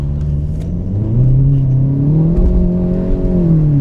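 A modified Volkswagen MK7.5 GTI with a plug-and-play tuning box and aftermarket intake accelerates hard, its engine note climbing in pitch after a brief wheelspin as the car hooks up, loud and close throughout, with a steady droning rise and no talking.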